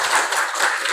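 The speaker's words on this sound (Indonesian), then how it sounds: "Tepuk tangan untuk temannya." Students in a classroom clapping for a classmate, a brief dense burst of many hands applauding together, close and fairly loud.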